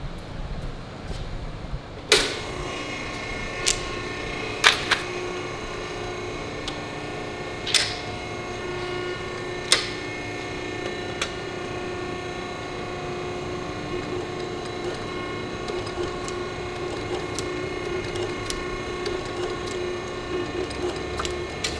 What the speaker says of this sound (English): So I'm going to bring it over to our swedge machine and square this back up